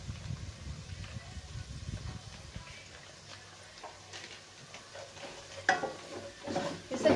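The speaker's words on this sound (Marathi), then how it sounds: "हे मसाले पण आपल्याला चांगले परतून घ्यायचे।" Spices with red chilli powder and pav bhaji masala are stirred and fried in a pan, making a faint sizzle under soft scraping and a few louder clinks of the spoon toward the end, with no talking.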